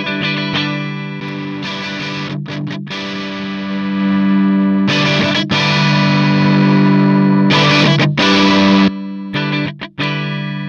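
Electric guitar played through a Boss Blues Driver BD-2 overdrive pedal at low gain, loud sustained distorted chords ringing out in several bursts with brief stops between them, no talking.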